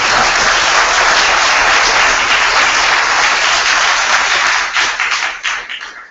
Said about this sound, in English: So can we get a round of applause for the panel?